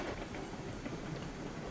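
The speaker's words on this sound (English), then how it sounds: "We do lock up that front brake in order just to get this thing stopped" Locomotive with its front brake locked grinding to a stop on a hill in RailRoads Online, a heavy, fully loaded train giving a steady, dense rumble and rolling clatter that stays loud and continuous throughout.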